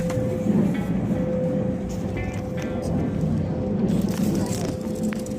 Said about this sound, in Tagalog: First train from Tsuruga going to Kyoto.